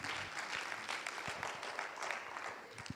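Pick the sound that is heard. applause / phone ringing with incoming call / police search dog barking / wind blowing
applause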